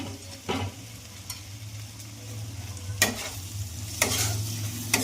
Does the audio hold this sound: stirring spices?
yes